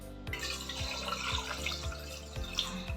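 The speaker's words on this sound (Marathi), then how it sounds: "आता एका कुकरमध्ये आपल्याला थोडं पाणी टाकायचं आहे." Water poured into a pressure cooker, a steady splashing stream into the metal vessel with a faint rhythmic low thumping beneath it, close and moderately quiet, no voices.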